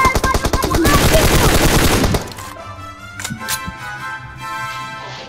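Rapid automatic gunfire from a shooter video game, loud and dense for about two seconds, then dropping to scattered distant shots and lighter game sounds.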